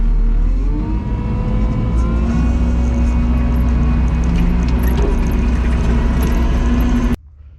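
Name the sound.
Kubota tractor engine throttled up while lifting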